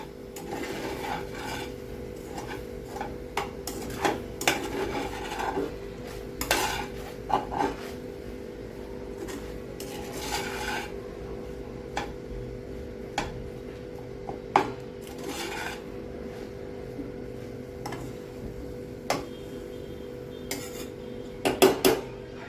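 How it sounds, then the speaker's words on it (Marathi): Sabudana cooks in a pot whose lid is lifted for stirring; a spoon scrapes and knocks against the pot in repeated irregular clinks over a low steady hum, fairly faint overall. "पुन्हा झाकण काढून वर खाली करून घेऊया,"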